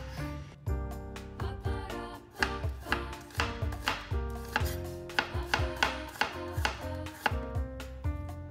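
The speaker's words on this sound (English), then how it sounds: "peel and finely chop the shallot" A knife finely chopping a peeled shallot on a cutting board, a steady run of sharp, close, evenly spaced taps that quicken toward the end, with no voices.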